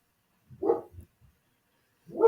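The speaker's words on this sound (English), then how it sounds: "dog outside barking" A dog outside gives two muffled barks, a short pause between them, sounding somewhat distant as if heard from indoors.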